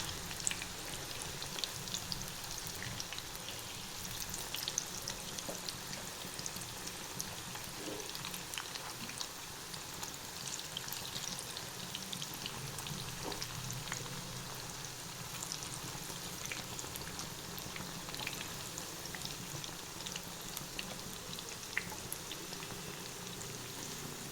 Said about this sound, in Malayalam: സൺഫ്ലവർ ഓയിൽ വെച്ച് കൊടുത്തു എണ്ണ ചൂടാവും നമ്മളിതാ ഫസ്റ്റ് ട്രിപ്പ് ഇട്ടിട്ടുണ്ട്